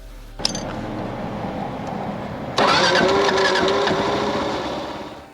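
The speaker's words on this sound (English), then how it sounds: "Lighting it up at number 12, Kawasaki KLR650." A Kawasaki KLR650 dual sport motorcycle engine starts after a brief crank, catching abruptly and settling into a loud, close, steady thumping idle with a rising whine.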